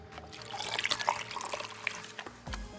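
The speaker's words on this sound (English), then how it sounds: "Let's add the water." Water poured into a cup of blue slime mix, a close splashing trickle with small drips, ending in a brief heavier gush.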